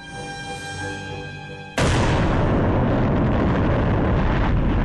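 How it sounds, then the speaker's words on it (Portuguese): Guns aboard the destroyer USS Laffey fire in a naval battle: after a brief tonal lead-in, a sudden loud blast gives way to a continuous, heavy roar of gunfire. "Nossos canhões estavam disparando tão rápido que parecia uma música."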